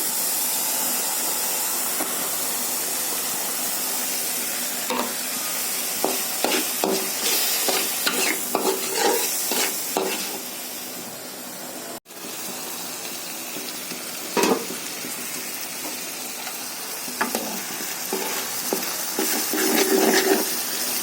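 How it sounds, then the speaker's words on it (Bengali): Dried mola fish frying with salt and spices in a pan, a continuous loud sizzle and hiss with repeated spatula scrapes and clatter, one sudden sharp drop midway, no voices. "শুক্তিটা ভালো করে ভুনা ভুনা হয়ে গিয়েছে"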